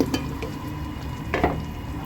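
Raw potato pieces added to frying masala in a pan give a soft, steady sizzle with a couple of brief stirring scrapes, close and fairly quiet.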